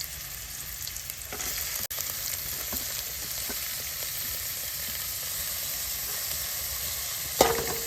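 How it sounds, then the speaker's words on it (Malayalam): Sliced onions frying in hot oil in a pan, a loud, dense, steady sizzle heard close up with a couple of sharp knocks, no voices. "ഇതാ സവോള ഇടുന്നുണ്ട് കേട്ടോ എണ്ണ ഒഴിച്ചിട്ടുണ്ട് ചൂടായിട്ടാ സൗണ്ട് കേട്ടോ"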